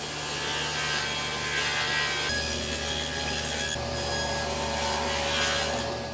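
A spline groove is cut into the wooden frame of an acoustic panel, producing a steady, continuous rasping cut that shifts in tone partway through and runs uninterrupted for several seconds.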